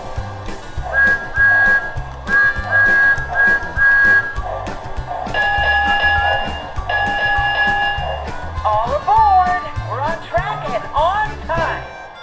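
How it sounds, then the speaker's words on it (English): Thomas the Tank Engine toy train whistle effects from a Lionel model train sound repeatedly in short bursts over a chugging mechanical rhythm, with a wavering, pitch-bending whistle near the end. "We finally have Thomas's TV series accurate whistle"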